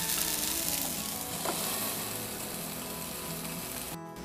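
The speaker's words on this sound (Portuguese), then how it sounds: "vamos colocar o nosso segundo pãozinho também para dourar" Gluten-free bread browning in a hot pan, a steady close sizzle of frying that holds continuously before a brief clatter right at the end.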